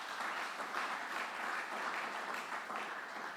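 Church congregation applauding the Lord during a sermon, steady dense clapping filling the room for the whole stretch at an even level, with no speech over it.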